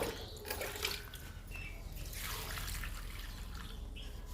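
Liquid poured onto two tulsi plants suffering in hot sun, a steady close trickle and splash of water with a few brief drips, continuous throughout.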